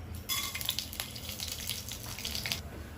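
Whole cloves, pepper, cardamom and cumin hit hot oil for a restaurant-style soya chunks curry, giving a steady, fairly soft crackling hiss with small pops throughout.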